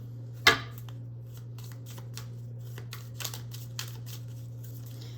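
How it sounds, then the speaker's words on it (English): Tarot cards riffled in one sharp burst near the start, followed by soft scattered taps and slides as a few cards are pulled and laid down, over a steady low electrical hum. "Leo, I'm going to pull a couple more cards here"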